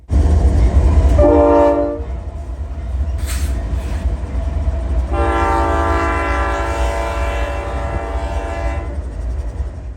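A Norfolk Southern freight train rolls past, its loud horn blaring in two blasts, a short one and then a long sustained chord, over a steady low rumble of wheels and cars.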